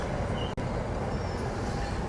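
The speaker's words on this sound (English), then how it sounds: "There's the other train. This one's going to Jersey." A train bound for Hoboken, New Jersey rumbles past in a steady, broadband roar, moderately loud and continuous, with a brief dropout partway through and no speech.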